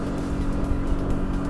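A Selva GT 342 motorboat running at full throttle up a lake, its engine a loud, steady droning roar with a constant hum and wash noise, close and continuous, with no talking.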